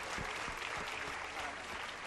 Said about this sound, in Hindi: जरा तालियां जरूर बजाइएगा।